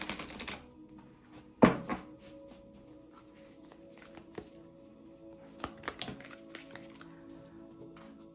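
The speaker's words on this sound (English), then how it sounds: "Let's give it a couple more shuffles." Tarot cards being shuffled close by, soft riffling taps and a few sharper snaps in irregular bursts, otherwise quiet.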